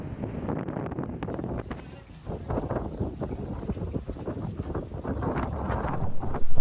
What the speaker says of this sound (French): le vent est tellement fort